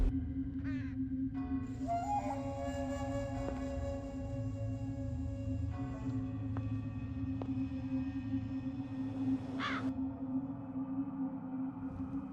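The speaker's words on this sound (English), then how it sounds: "Large black crows are watching me." Large black crows caw repeatedly over a steady low hum in the ghost-hunting adventure game The Lost Crown, harsh calls rising at intervals above a constant ambient drone, with no talk.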